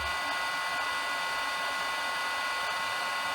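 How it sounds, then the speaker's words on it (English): A heat gun blowing steadily on heat shrink tubing during a model aircraft build, a loud, even, close-up whooshing roar that holds constant throughout with no talk. "Apply a little bit of heat to that."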